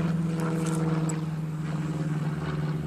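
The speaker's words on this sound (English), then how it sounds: "that's just a little single engine Cessna headed in for the local airport" A small single-engine Cessna plane heading in toward a local airport, heard as a steady low droning hum that holds level throughout, fairly loud and alone.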